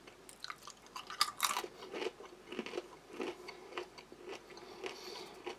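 Crunchy sea salt pita chips from a kosher MRE are chewed close to the mouth, irregular crisp crunches and snaps repeating with no talking.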